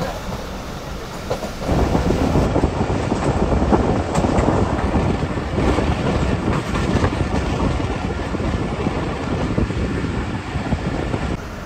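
Karakoram Express passenger train with old coaches rolling toward Badami Bagh near Lahore, a loud steady rumble with rhythmic clickety-clack of wheels over rail joints and wind buffeting the microphone, heard up close from aboard the moving train.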